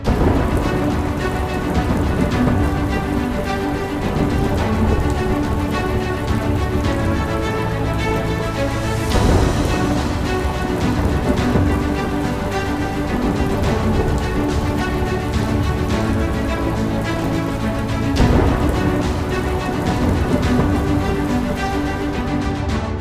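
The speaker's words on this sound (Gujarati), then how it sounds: "વલસાડમાં ધોધમાર વરસાદથી ચારે બાજુ પાણી પાણી થઈ ગયું" Heavy rain pours down in Valsad, Gujarat, in a dense, constant roar, with occasional low rumbles swelling beneath it; no voices.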